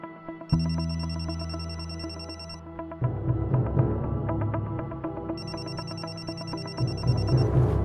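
A telephone rings in two loud electronic bursts, each a steady repeating trill lasting a couple of seconds, separated by a pause, with a low droning background underneath.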